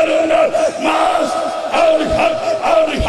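A large crowd at a Shia majlis shouting the religious slogan Haidari together, loud and close, in repeated rising collective cries.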